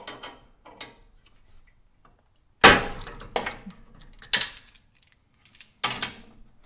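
A puller slips off a Jeep Wrangler sway bar link with a sudden sharp metallic clank, followed by several scattered rattling knocks and clinks against near silence.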